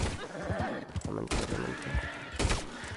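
A horse in Red Dead Redemption 2 whinnies and snorts amid game noise and clattering, close and fairly loud, with people talking over it.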